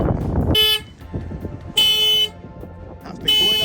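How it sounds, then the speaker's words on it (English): Car alarm going off near parked cars, sounding in loud repeated horn blasts separated by gaps, with a voice talking between the blasts. "This car alarm had been going off when we arrived 2 to 3 hours previous."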